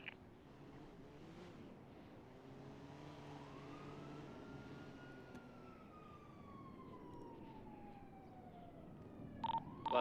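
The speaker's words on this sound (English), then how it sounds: "Sirens." A wailing police siren in GTA V rises and falls at a distance, with faint engine noise and a brief clatter near the end.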